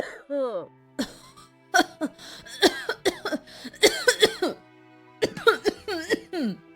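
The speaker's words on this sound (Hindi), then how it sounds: "ये खांसी तो मेरा पीछा ही नहीं छोड़ रही।" A woman coughs repeatedly in rough, strained bursts with short pauses between fits, close and fairly loud.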